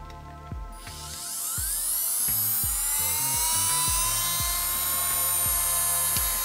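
An electric nail drill spins its bit at around 18,000 to 20,000 rpm to remove gel from a broken nail, a high, close whine that rises in pitch after a second and then holds steady over a rhythmic backing beat.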